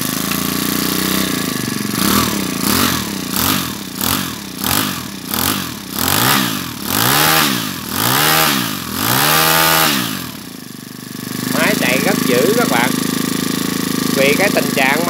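A Robin EHO 25 four-stroke portable water pump engine sits close by and is repeatedly revved, rising and falling in about eight regular surges, then settles into a loud steady roar while a person talks over it near the end.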